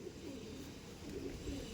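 Andhra pigeons, a male and female pair kept for sale, coo softly and steadily; low, muffled cooing runs continuously throughout the short stretch, faint and close, with no voices over it.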